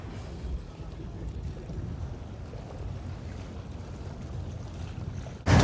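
Steady wind gusting around a harbour on Crete, a continuous low rushing roar with water lapping, fairly loud and unbroken, ending in a sudden louder buffet at the very end; no talking.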